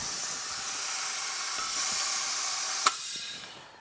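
A brake bleeder pulls fluid through the caliper of a Honda CBR 600 RR, making a steady close hiss broken by a sharp click, then tapering off.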